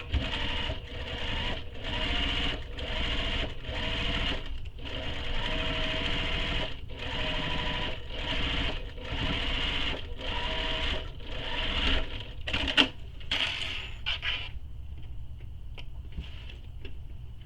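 A sewing machine top stitching a tote bag with a lengthened stitch, whirring in a fast even rhythm of short pulses, close and unaccompanied, slowing to a stop near the end.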